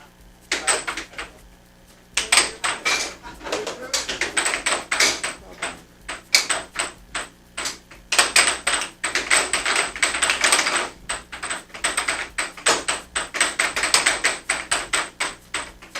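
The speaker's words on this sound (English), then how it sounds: "All that clacking you hear is from the other match." Hard plastic clacks and bangs from an air hockey match at a nearby table come as rapid, irregular sharp knocks in dense clusters throughout, fairly loud and without talk.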